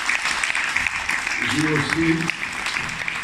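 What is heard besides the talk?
audience applause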